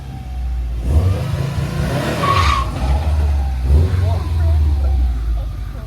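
A Subaru with a lockable center differential makes a hard launch, its engine revving loudly with a brief tire chirp. People talk over the engine noise.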